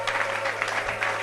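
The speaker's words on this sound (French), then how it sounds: "Applaudissons pour Dieu." A church congregation claps steadily and enthusiastically throughout, a dense continuous applause with no pauses.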